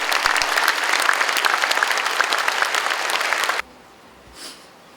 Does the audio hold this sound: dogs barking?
no